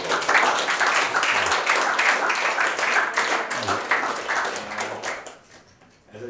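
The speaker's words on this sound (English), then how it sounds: "And let's just give him an applause." Audience at a basketball camp claps in a sustained, fairly loud burst of many hands, with a few low voices underneath, fading out near the end.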